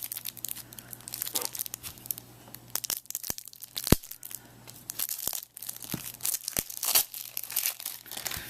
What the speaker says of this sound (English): I'll just flip through the cards real quick here.